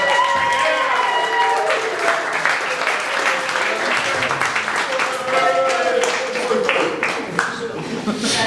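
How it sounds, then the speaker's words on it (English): Wedding guests applauding at a reception, a sustained wash of clapping from a crowd lasting several seconds, with voices talking and some tonal music or sound underneath. "Can we get a round of applause?"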